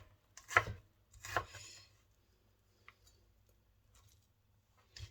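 Onions chopped by hand on a board: two sharp knife strikes close together near the start, then a few faint taps and ticks spread through an otherwise quiet stretch.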